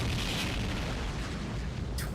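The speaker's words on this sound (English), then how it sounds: "We just get fucking blasted with long-range homing missiles" A sustained, rumbling blast of long-range homing missiles exploding in the mobile game Fate/Grand Order, dense and loud throughout, with a sharp burst near the end.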